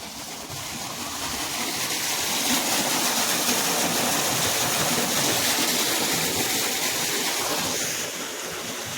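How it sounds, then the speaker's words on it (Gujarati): Water gushes steadily from a borewell pump outlet on a farm, a dense, rushing splash that stays loud and even throughout. "જો મિત્રો પાણી આવી ગયું"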